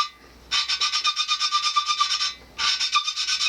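A small engine valve from a 1967 Wheel Horse 857 garden tractor's Magnum 10 being lapped against a hardened valve seat makes a steady, rapid back-and-forth rasping scrape. It comes in two close, fairly loud bursts separated by a short pause.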